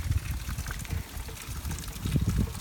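Water leaking from a broken garden drip irrigation line: an uneven trickling and spattering that stays close and fairly soft, with no voices.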